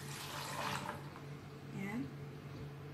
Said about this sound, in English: Tapos mag-add tayo ng water dyan.